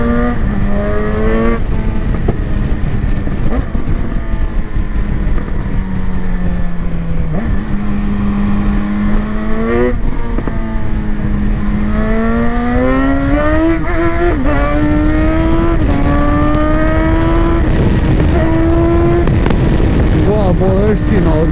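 A 2018 BMW S1000XR motorcycle engine runs steadily while riding through bends, its tone rising and falling with throttle changes under constant wind rush, loud and close throughout.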